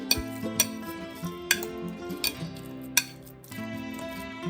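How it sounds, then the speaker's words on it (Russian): Food being mashed in a bowl with a potato masher or fork, giving a few sharp metallic clinks and taps against the dish, spaced irregularly over soft, close, quiet squishing. "Теперь все надо как следует подавить с помощью вилки или,"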